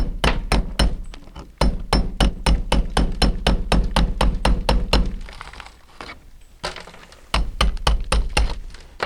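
Hammer striking a cat's paw bar into a stucco wall in rapid, evenly spaced sharp knocks, a brief pause, then slower scattered hits and a final burst of fast blows, close and loud.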